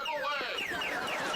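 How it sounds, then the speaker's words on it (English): A wailing, siren-like alarm sweeps up and down in a video game, loud and continuous over a short stretch, with a voice faintly mixed underneath. "It's a huge alarm."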